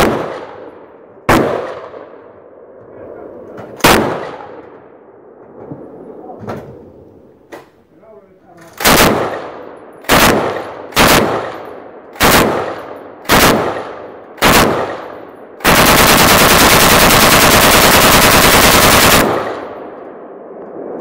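DP 27 light machine gun fires about a dozen sharp, loud single shots at uneven intervals, then one sustained burst lasting several seconds, all close by.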